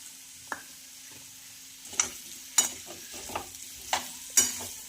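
Pumpkin curry being mixed in a pan, a quiet background with a series of sharp scraping and clinking spoon strokes against the pan, irregular and close, no speech.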